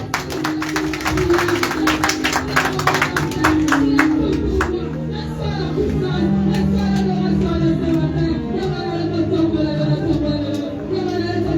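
A church congregation claps to acclaim the preacher, with a quick run of sharp claps over the first few seconds, then a sustained tonal music bed and some voices.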